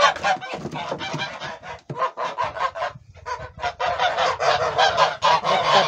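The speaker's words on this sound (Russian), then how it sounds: "Вот такие голосистые гуси." Geese honk loudly and repeatedly close by, overlapping bursts of harsh calls with a short lull midway before the noisy honking resumes.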